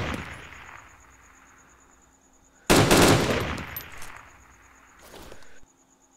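Gunfire from a survivor shooting in the video game DayZ, a sudden loud burst of shots that rings out and decays over about two seconds, followed by a fainter second burst, with no talk over it.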